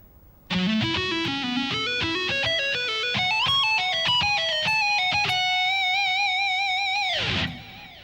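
A slow electric guitar lick with a processed, effected tone: stepwise single notes climbing higher, ending on a long sustained note that rings out and cuts off.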